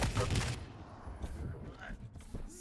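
Rocket launcher fire and explosions during a competitive Quake Champions playoff match, a burst of blasts in the first half second followed by further scattered impacts and game noise, with commentary talk running underneath.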